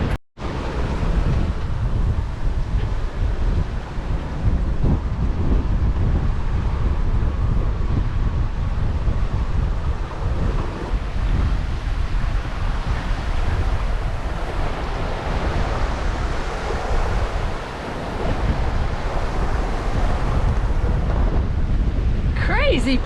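Wind and surf rush around a sailboat at sea off the Canary Islands, a loud, broad, continuous roar with gusting wind buffeting the microphone throughout.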